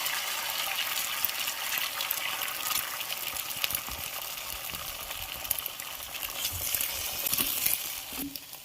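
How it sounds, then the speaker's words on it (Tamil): Beaten eggs hit a hot pan while Maggi noodles are being made, a steady hissing sizzle of frying that stays loud and close throughout, with no talking. "இப்போ வந்து நம்ம இந்த உடச்சி வச்சுருக்க இந்த முட்டையெல்லாம் இதில் சேர்த்துக்கலாம்."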